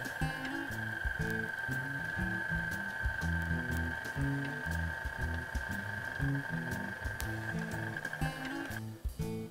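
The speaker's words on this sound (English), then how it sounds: "Turn the roller back on and feed it in to make a thinner sheet of dough." A pasta machine's motorized rollers hum and whir steadily on setting 3 as a sheet of spaghetti dough is fed through, with a rhythmic mechanical clatter close by before the motor cuts off near the end.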